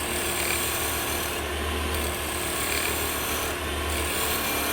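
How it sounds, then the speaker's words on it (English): A round nose scraper shaves a small wooden Christmas tree ornament spinning on a wood lathe, producing a continuous, close rasping hiss over the steady low hum of the machine, easing slightly twice. "Now, I've got a round nose scraper, and I'm just going to get that curve."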